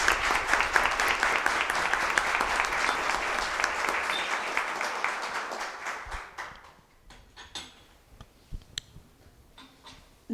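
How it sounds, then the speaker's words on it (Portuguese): An audience in a city council chamber applauds teachers with dense, sustained clapping that fades after about six seconds, leaving a few scattered claps and room noise. "uma salva de palmas aí para todos os professores"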